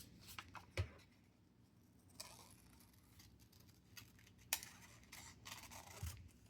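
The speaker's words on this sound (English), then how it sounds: "I'm going to just fussy cut this out, though." Scissors snip paper for a glue book in quiet, close, intermittent cuts, with a few sharper clicks and soft rustling between the strokes.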